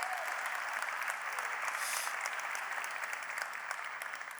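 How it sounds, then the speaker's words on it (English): A crowd claps at a technology conference session, a steady, fairly soft roar of dense applause held evenly from start to finish with no talk over it. "Big round of applause for Prasoon,"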